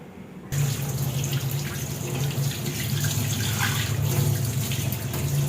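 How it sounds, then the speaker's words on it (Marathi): Tap water runs steadily into a sink as fresh coriander leaves are rinsed for kothimbir vadi, a continuous close rushing splash that starts abruptly after a brief quiet moment and holds at an even level, with no voices. "स्वच्छ अशी 2-3 पाण्याने आपण ही कोथिंबीर आता धुवून घेऊया।"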